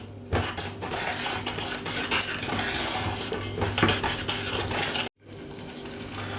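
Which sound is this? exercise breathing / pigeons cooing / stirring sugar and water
stirring sugar and water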